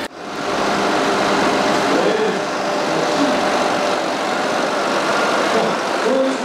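A DEUTZ-FAHR series 6 or 7 tractor drives itself on automatic steering at a 2016 field day in Dresden, its engine droning steadily and fairly close for several seconds.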